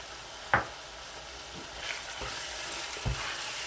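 Keema mutter with green chillies stirred in a pan, a low, quiet sizzle beneath a few separate knocks and scrapes of a spoon, one sharper clack early on, close but faint.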